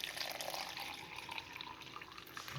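Tap water running into a bowl of sugar for a bread yeast mixture, a steady close splashing rush that fills the short stretch without pause.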